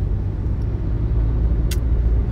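A car driving on a road in the morning, heard from inside as a steady, loud low rumble of engine and tyres that runs unbroken throughout, with a short higher hiss near the end.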